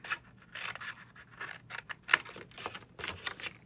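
Scissors cut through cardstock for a greeting card portfolio, a run of quick crisp snips and scratchy slices in irregular rhythm, close and fairly quiet.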